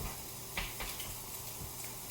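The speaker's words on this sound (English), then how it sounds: "I prefer doing the roux on the stovetop." A roux cooks in a pan on a stovetop for mac and cheese. It gives a steady sizzle and hiss, with a few light scrapes of stirring close by.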